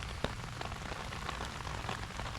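Steady rain patters on a golf course, with scattered individual drops ticking close by over a soft continuous hiss.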